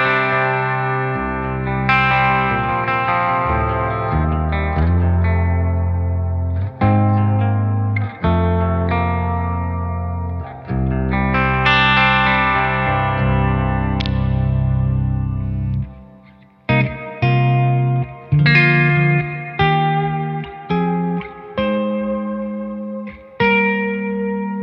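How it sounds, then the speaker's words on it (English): Electric guitar on a clean preset with compression, EQ, reverb and delay, played alone as a continuous run of sustained chords and picked notes with long ringing tails, ending in short choppy stabs. "this is literally just a clean sound, compression EQ and obviously reverb delay"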